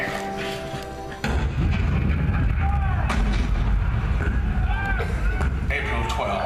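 Cannon fire as a theme park attraction sound effect in The Hall of Presidents at Magic Kingdom, depicting Fort Sumter in 1861: a sudden loud deep boom followed by sustained rumbling battle noise, with a narrator's voice over it.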